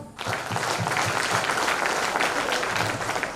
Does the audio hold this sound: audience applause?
yes